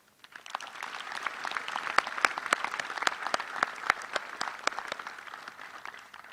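Scattered applause at a high school class of 2020 graduation ceremony for a doctor and his team, individual claps distinct within a modest crowd, starting after a brief pause and continuing steadily throughout.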